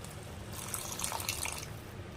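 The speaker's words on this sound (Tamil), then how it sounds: "இது கூடவே கொஞ்சமாக தண்ணி ஆட் பண்ணிக்கிறேன்" Water poured into a pan of Punjabi-style ladyfinger (bhindi) masala, a soft continuous splashing pour for about a second amid a faint hiss, no talking.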